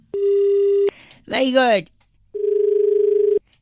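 A telephone disconnect tone after a call is cut off: a steady beep, then a man's brief exclamation, then a longer pulsed tone.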